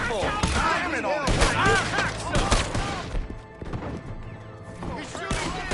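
Gunshots from a film scene crack out several times amid shouting voices, with hoof-like clatter and loud sharp bursts clustered in the first three seconds before a quieter stretch and renewed noise.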